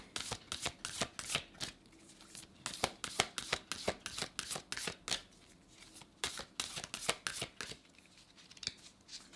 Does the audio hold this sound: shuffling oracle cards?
yes